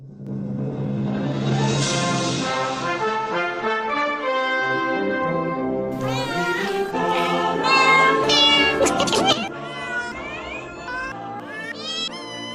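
A cat meows in a long, wavering, sung-out run of calls that rises and bends in pitch, with dense harmonic music-like layers around it and no talking.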